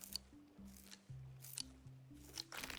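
Sheep shearing in the video game Rising World: soft snipping and crunching bursts recur through a quiet stretch, set over a stepping, tonal background line.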